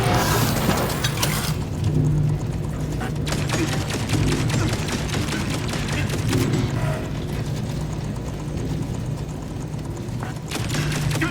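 An automated turret in Outer Worlds 2 fires a loud, steady stream of rapid shots over mechanical whirring and ratcheting. The barrage runs continuously throughout.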